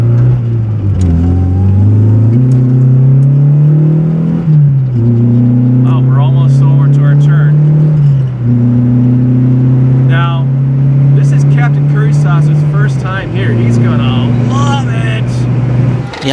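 A Yamaha FZ8 inline-four 796 cc engine drones loudly and close while riding, rising and dropping in pitch through several gear changes, with faint voices underneath.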